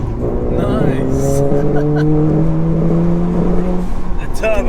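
Bagged Audi A3 with a heavy body and a small 1.4 turbo engine accelerating, its rising engine tone loud and close throughout, with people talking over it.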